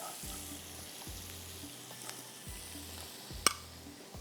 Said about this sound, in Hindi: तड़के के लिए मैंने यहाँ पर डाल दिया है एक पैन के अंदर ऑयल